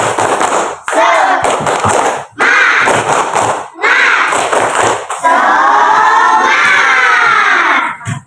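Schoolchildren in a classroom do a group spirit clap, loud bursts of clapping and shouting in rhythmic waves separated by short pauses, ending in a longer sustained burst of cheering claps.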